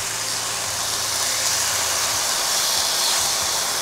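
Pork frying over low heat in a pan for Vietnamese braised salty pork; a steady, close, continuous sizzling hiss that holds evenly throughout with no talking.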